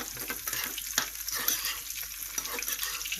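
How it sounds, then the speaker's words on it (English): Garlic, chili and curry leaves sizzling in hot ghee for a tarka, a soft steady crackle with spatters and a stirring scrape, fairly quiet and without talk. "all this garlic and chili and the curry leaves are just infusing into the ghee while it's cooking"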